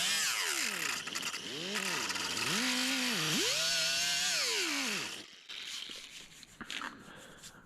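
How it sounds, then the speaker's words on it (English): A power grinder removes metal from the damaged cab of a 1990s magazine truck, its motor whine rising and dipping in pitch as it bears on the steel, then cutting off into quieter shop noise. "I'm just gonna grind that off."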